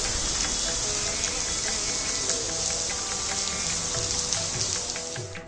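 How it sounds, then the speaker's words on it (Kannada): Heavy rain pours down in a dense, unbroken rush at the Ramaswamy temple in Kumbakonam, loud and close, with occasional heavier drips standing out from the steady wash. "ನಾವಲ್ಲಿರೋ ತನಕ ಮಳೆ ಸಂಭ್ರಮ ನಡೀತಾನೆ ಇತ್ತು"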